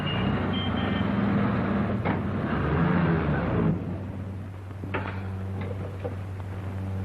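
A 1937 taxi engine rumbles steadily close by with a low drone, shifting as it pulls away, with a few faint clicks and knocks over the running motor.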